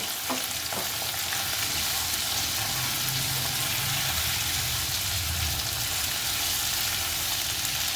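Broad-cut onions and green chillies frying in oil for chicken dopiaza, a loud, dense, continuous sizzle close up with faint stirring knocks near the start.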